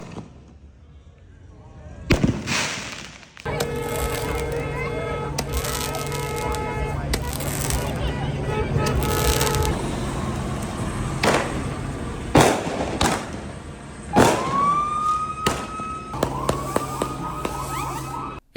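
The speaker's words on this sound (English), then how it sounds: "They were also shooting fireworks from the gas station and at the gas station." Fireworks bang and crackle repeatedly during a street riot at a Los Angeles gas station, sharp loud blasts and whistling rockets over a steady siren wail and crowd noise, with people shouting throughout.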